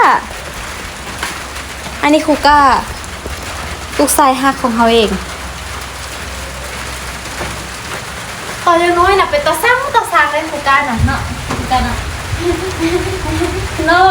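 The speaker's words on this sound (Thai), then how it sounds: "อู้ฝนตกแล้วทุกคนฝนตกมาแต่เทิงคุณนอ่ะ" Steady rain falls at a rural home in Laos, a continuous hiss on surfaces throughout, while someone talks and a voice rises over it at moments.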